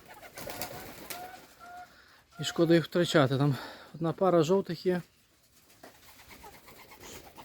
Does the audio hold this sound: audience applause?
no